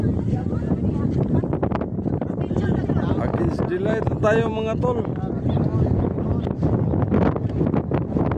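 Strong wind buffets the microphone in low, rumbling gusts throughout at an artificial lake, while someone talks over it.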